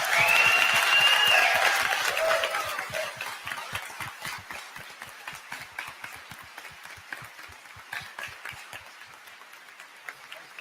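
A crowd at a congressional candidate forum applauds, starting as a loud, dense burst with a few whoops, then thinning over several seconds into scattered, individual claps that slowly die away.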